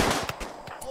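Automatic weapon fire in the Rimworld video game: a quick burst of several rapid shots over about a second, moderately loud and alone, with no talking.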